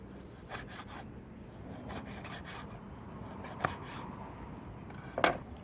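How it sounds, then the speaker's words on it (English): A knife slicing through rolled-up bacon on a cutting board, with soft repeated sawing strokes and a couple of sharper taps against the board, quiet and close. "just roll it up. Cut it this way."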